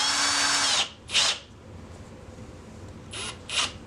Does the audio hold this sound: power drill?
yes